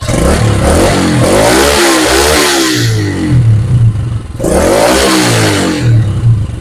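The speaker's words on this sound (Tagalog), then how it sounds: "So ayan guys, kung maririnig nyo, stock pipe yung tunog." A motorcycle with a stock exhaust pipe revs hard twice, each rise climbing in pitch and then falling back, loud and close with a clattering idle in between and no talking.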